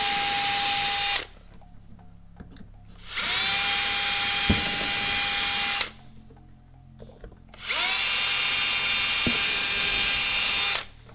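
A power drill whines at high speed in three sustained bursts separated by short pauses, drilling rivet holes between a Camaro's wheel and fender liner, loud and close, with faint clicks between runs.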